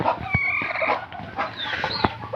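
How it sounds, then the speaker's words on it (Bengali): Domestic backyard hens on a farm clucking, several short repeated clucks and calls close by, with busy rustling and a brief crowing-like note in the background. "তো আমার এই মুরগিটা হচ্ছে সব থেকে সুন্দর একটা মুরগি আমার খামারে"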